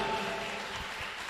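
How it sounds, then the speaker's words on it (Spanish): A church congregation in Ibagué claps in praise during a worship service, a steady wash of applause that holds fairly even across the moment with no speech on top. "Den un aplauso al Señor por nuestra ciudad"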